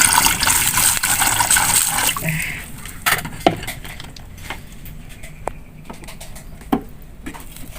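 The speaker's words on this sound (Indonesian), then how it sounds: "Kita masukkan airnya semuanya." Water pours steadily into a cooking pot for a squash and coconut milk dish, a loud continuous splashing rush that tapers off after a few seconds into quieter drips and light clinks.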